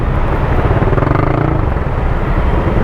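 A manual motorcycle engine drones loud and close in traffic, a steady rumbling roar that holds for a few seconds without talk.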